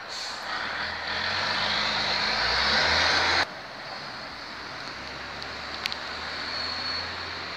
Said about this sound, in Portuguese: Caminhão barulhento.